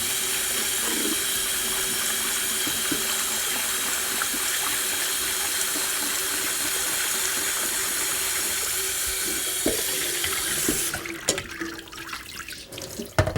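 Steady tap water runs into a bowl to rinse lentils for an Indian soup, a continuous hiss-like flow that cuts off near the end, followed by a few small clinks.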